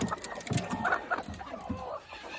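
Desi village chickens on a farm in Shahapur cluck in short, repeated bursts, several birds close by with overlapping calls that fade slightly toward the end.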